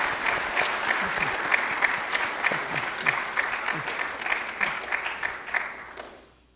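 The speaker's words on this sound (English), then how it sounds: "So I think that deserves a round of applause." Audience at the UWI Math Fair 2025 applauding: dense, steady clapping from a sizable crowd with a few louder close claps, then fading out at the end.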